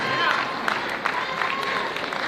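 Crowd applause at a Polynesian dance competition, greeting two contestants after a dance-off, with a steady wash of clapping while an announcer speaks over it.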